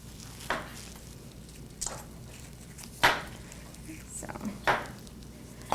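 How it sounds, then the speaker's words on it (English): Knife chopping tomatoes and other vegetables for pico de gallo on a cutting board, a handful of sharp, spaced cuts over a low steady background hum, no talking. "We're chopping up vegetables, flavorful vegetables at that."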